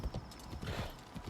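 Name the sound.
horse hooves walking in town, Assassin's Creed Shadows video game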